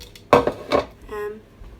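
A deep mixing bowl set down and handled on a kitchen counter, giving two close, sharp clattering knocks followed by a brief ringing tone as it settles, with no talk.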